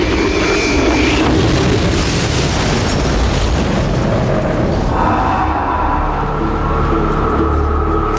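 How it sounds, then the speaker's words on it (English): Documentary reconstruction of a mid-air collision between a DHL cargo plane and a passenger airliner: a loud, sustained roaring boom and rumble of engines and impact, dense and continuous throughout. "The two planes fly straight into each other."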